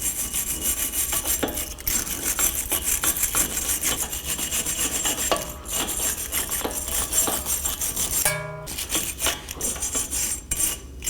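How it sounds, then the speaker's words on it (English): A wire brush scrubs the brake hub mating surface on a 2018-2024 Chevrolet Equinox, steady rapid scratching strokes, close and continuous with a brief pause near the end. "Now I'll be using a wire brush."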